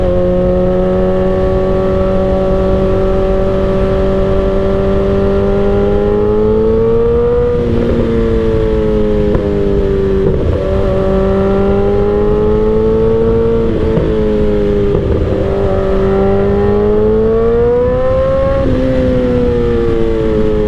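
A 2008 Suzuki GSX-R 1000 sport bike engine revs hard through its gears, a loud continuous wail climbing and dropping with several upshifts, heard up close with no talking.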